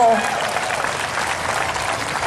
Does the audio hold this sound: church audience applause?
yes